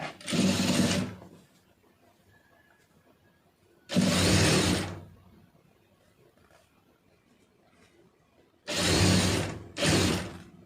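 A sewing machine stitches a quarter-inch hem on fabric in three loud bursts of rapid whirring, each about a second long, the last split into two quick runs, with quiet pauses between and no voices.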